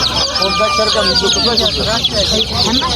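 Chicks and chickens at a poultry market, with dense continuous peeping and clucking from many birds close by and a rooster-like crow mixed in, loud throughout with market chatter underneath.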